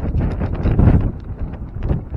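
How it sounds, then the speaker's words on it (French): Strong wind rising off the Melilla coast, a loud steady gusting rush with low buffeting against the microphone, swelling in the middle and settling slightly. "Et il y a le vent qui se lève là"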